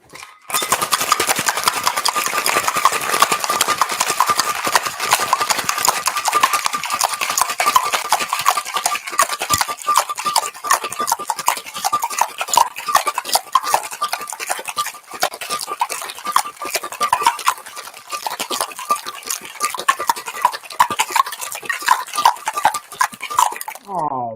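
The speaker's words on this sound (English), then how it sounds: "Shake it till it's too cold to hold. Forgive me, it might get loud for a sec." Ice rattles hard and fast inside a cocktail shaker, a loud continuous clatter that keeps going for over twenty seconds without a pause.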